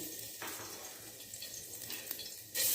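Garlic and ginger fry in oil for chicken hot and sour soup, a soft continuous sizzle that stays faint and even, with a louder burst of hissing at the very end.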